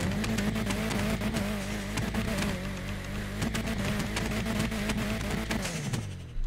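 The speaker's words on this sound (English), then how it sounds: "It sounds like it's got a turbo on it." A Nissan 180SX engine, apparently turbocharged, idling and revving nearby, a throaty steady drone with rising and falling pitch, then settling down at the end.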